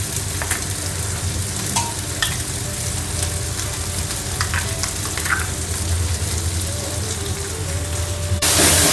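Masala paste with Kashmiri chilli, turmeric, charmagaj and cashew paste fries in a pan for potala kurma, a steady close sizzle with occasional stirring scrapes and clinks.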